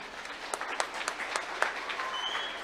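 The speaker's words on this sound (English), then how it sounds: "one more round of applause to our senior Dream Team dancers" Applause from an audience honoring senior Dream Team dancers at a Bolivar–Lebanon event, a steady wash of clapping with a few sharper claps and a faint whistle, moderately distant and continuous for under three seconds.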